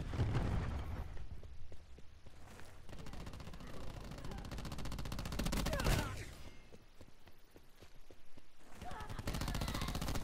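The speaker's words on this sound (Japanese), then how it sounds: "クラスターグレネードだ。" A first-person shooter match, played in hardpoint mode, fills with dense bursts of gunfire and thudding cluster grenade explosions that arrive in fast, overlapping waves and stay loud throughout.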